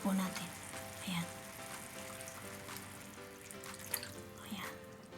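Squid marinade sauce poured into a hot pan, a steady sizzle and splashing hiss at low level, with a few clinks of a utensil and brief bursts as the liquid hits.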